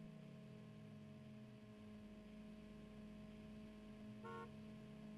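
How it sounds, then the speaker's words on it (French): Brief car horn toot from a vehicle in the racing game TrackMania United Forever, sounding once near the end over a steady engine drone and game music. "Le klaxon."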